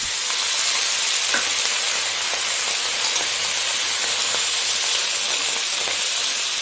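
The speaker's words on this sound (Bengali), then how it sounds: "পেঁয়াজটা এই যে অনেকটাই ভাজা হয়ে গেছে" Onions frying in a pan give a loud, dense, even sizzle, continuous throughout with faint scattered pops.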